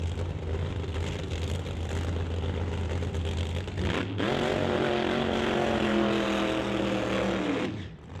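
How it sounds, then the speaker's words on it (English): A Ford Mustang Pro Mod drag car does a burnout in the burnout box at a West Coast Pro Mod drag race. The engine roars steadily, then climbs in pitch and holds a loud, high, screaming drone before it cuts off near the end. "Tom Reithmeyer not having a little bit of a weird burnout there"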